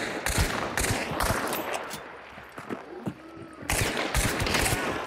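Gunfire in a first-person shooter video game, with repeated loud bursts of shots at the start and again near the end and a quieter stretch between, some shots landing as headshots through a wall.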